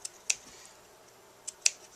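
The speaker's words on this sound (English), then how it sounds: "we'll go ahead and cut out the rest of the pieces for our card." Scissors cutting out paper pieces for a small 3 x 3 card, a few crisp isolated snips spaced apart, close and clear in a quiet room.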